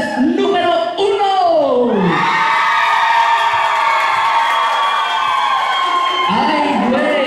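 A large crowd shouts and cheers loudly and continuously, with rising and falling yells that swell into a sustained roar.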